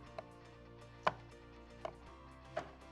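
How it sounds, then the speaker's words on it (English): A knife slicing a block of cold butter into cubes on a cutting board, giving four separate crisp knocks spaced irregularly, close and fairly quiet with no voices. "Cut it in half, stack it into cubes, right?"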